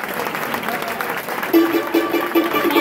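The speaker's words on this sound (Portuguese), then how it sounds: "Uma salva de palmas, por favor, para a Rafaelinha e para a Patrícia." Crowd clapping at a samba school award event, a moderate patter of applause that stays steady throughout, with a faint voice in the background.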